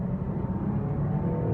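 Engine of a 2015 Range Rover Sport HSE V6 revving around 4,500 RPM, a steady, dense, low droning roar heard from inside the car, loud and continuous.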